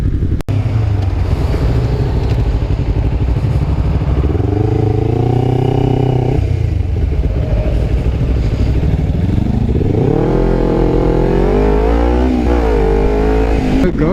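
Kawasaki Ninja 250R and Honda CBR 500R motorcycles ride together, engines droning loudly and close with rising and falling revs through shifts, heavy wind rush over a helmet microphone throughout.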